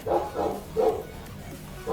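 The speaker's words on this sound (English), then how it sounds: "that is my dog in the background" A dog barks in the background, four muffled, moderately distant barks spaced unevenly.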